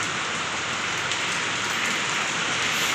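Steady, dense rain falls and patters on surfaces, a constant hiss that stays even throughout with no voices.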